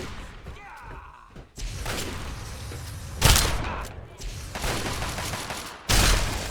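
Gunfire in Fallout 3 comes as heavy blasts and bursts, loud and close, with several sharp peaks and rumbling stretches between them.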